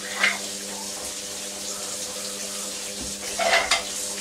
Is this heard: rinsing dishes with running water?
yes